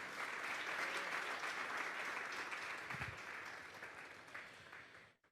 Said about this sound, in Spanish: Vamos a darle un fuerte aplauso esta tarde al Señor.